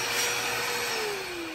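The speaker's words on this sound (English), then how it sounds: "let's do the vacuum part first" A Craftsman 3-gallon wet/dry corded shop vacuum running outdoors, a steady whooshing motor roar with a slowly falling whine, close and continuous for a brief moment.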